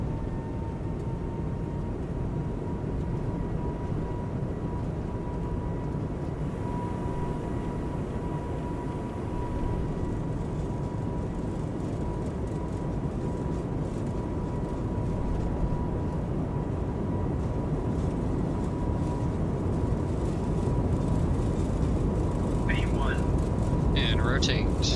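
An airBaltic A220 begins its takeoff roll in Microsoft Flight Simulator 2024, a steady engine drone and rumble under a pilot's voice, with a faint chime near the end.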